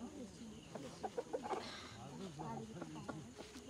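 A rooster or hen clucks in short, irregular bursts close by, with a flurry of sharper calls in the middle, over background noise and possible talk.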